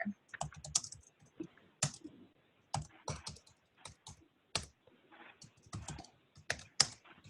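Someone typing on a computer keyboard while writing a chat message, irregular bursts of quiet close clicks with short pauses between keystrokes.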